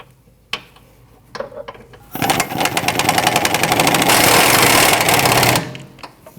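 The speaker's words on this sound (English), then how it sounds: "You want to tighten your front bolt down, just not all the way." Ratchet tightening the bolts on a rear upper suspension control arm of a 2013-2019 Ford Escape, giving a loud, dense burst of rapid clicking that runs about three and a half seconds after a few quieter knocks.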